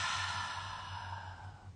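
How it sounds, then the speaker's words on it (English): A single long, breathy exhale out the mouth during a guided meditation, close and soft, tapering off gradually with no talk over it. "exhale audibly out the mouth"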